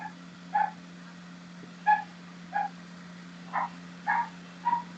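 A dog, kept at a house near an online class, gives six short whimpering yips spaced about a second apart, moderately close, over a steady electrical hum.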